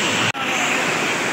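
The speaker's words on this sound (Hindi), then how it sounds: "गाइस देख सकते हैं बहुत ही ज़्यादा बारिश हो रही है, बहुत ही ज़्यादा बारिश" Torrential rain falls at Neelkanth temple in Rishikesh, a thick continuous roar of downpour broken only by a split-second dropout near the start.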